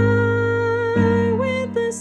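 Sustained piano chords from the final chorus of a song ring out in a band arrangement, with two major chords standing in for minor ones; the chords hold steadily, shift once near the midpoint, and play alone with no voice.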